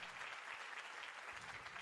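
Steady applause fills the clip, a dense wash of many hands clapping at moderate volume with no pauses.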